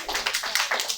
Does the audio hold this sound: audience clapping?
yes